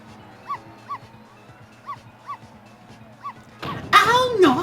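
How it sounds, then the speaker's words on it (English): Small dog barking from the Ghost Trick video game in a series of short yips spaced roughly half a second apart over low rhythmic game music, then a louder burst of voice-like sound takes over at the end. "Bark, bark, bark."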